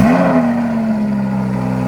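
A Lamborghini engine revs hard once and then holds a loud, droning tone close by, with no voices over it.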